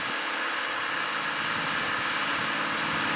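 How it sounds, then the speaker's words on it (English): A new 2020 John Deere 8R280 tractor engine runs steadily, a constant droning hum with broad noise that holds evenly throughout, out in a cotton field during side-dressing. "this is a brand spanking new 2020 John Deere tractor, the new 8Rs."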